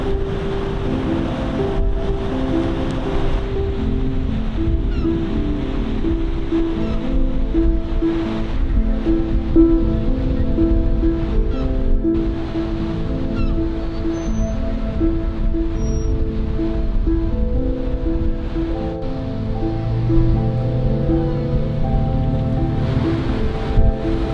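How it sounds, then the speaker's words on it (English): Steady, loud wind roaring across the microphone at an ocean beach on the Oregon coast, with a constant low rumble of surf beneath it; no talking. "Hopefully you can hear me through the wind."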